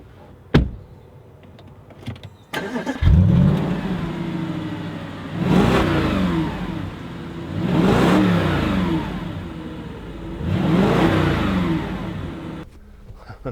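A 2015 Audi RS4 Avant with its 4.2 TFSI V8 starts up with a door thunk and click, then pulls through three loud, rising acceleration runs, each swelling and dropping away as gears change, with no talking over it.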